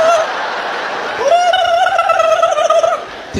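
An audience member at a comedy show imitates a turkey with a voice, a loud warbling gobble that rises and trembles for about two seconds, with faint crowd laughter around it.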